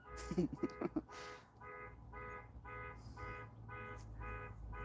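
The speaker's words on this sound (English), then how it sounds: "Someone's car alarm's going off right now." A nearby car alarm repeats a regular pulsing electronic tone in steady bursts, moderately loud, following a few brief knocks at the start, with outdoor background hum.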